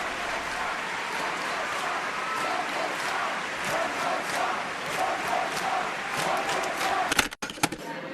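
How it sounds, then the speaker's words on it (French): Thunderous applause from an opera audience at Covent Garden after Meyerbeer's L'Africaine, a dense, steady roar of clapping from a large crowd with scattered cheers, ending in a few sharp knocks. "Écoutez-moi ce tonnerre d'applaudissements ô combien mérité."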